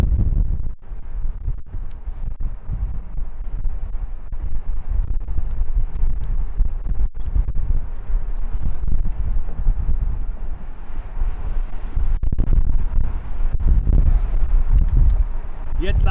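Strong headwind buffets the microphone during a Rad Race Tour de Friends uphill bike time trial in 2023, a loud continuous roaring rush with gusty low thumps.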